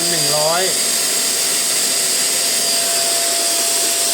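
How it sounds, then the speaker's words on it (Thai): A household vacuum cleaner runs steadily throughout, a loud continuous broadband whine with a steady tonal hum, while a brief voice-like sweep comes near the start; it is powered from a home solar hybrid inverter setup. "ปิดเครื่องดูดฝุ่นก่อน"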